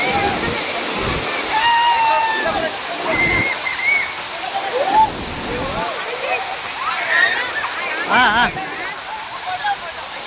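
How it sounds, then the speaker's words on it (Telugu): Amboli waterfall in the Western Ghats roars as a steady, broadband rush of falling water, with splashing throughout and a voice talking over it in places. "అంత హైట్లో ఈ వాటర్ ఫాల్ అనేది ఉంది."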